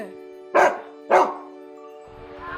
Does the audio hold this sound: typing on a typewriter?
no